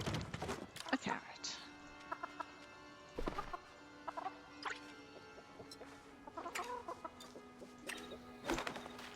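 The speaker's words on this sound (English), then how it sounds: "So we've got all of the chickens in here at the same time." Chickens clucking in the farming video game Palia, short clucks and squawks scattered through the scene alongside soft game ambience, with a steady tone in the background.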